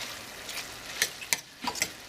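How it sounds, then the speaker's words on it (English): A spoon stirs leftover meat mixed with thyme in a pan, giving a few soft scraping strokes and a faint sizzle, close and quiet with no talk. "Get this all mixed up."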